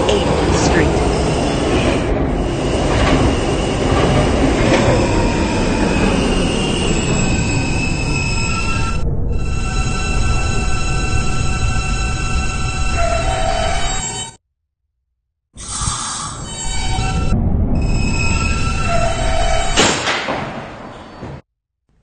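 Car 8775, an R160B Alstom B train subway car, rolls toward 78th Street with a loud, steady rumble and squealing wheels, then falls briefly silent before the clatter resumes and fades at the end.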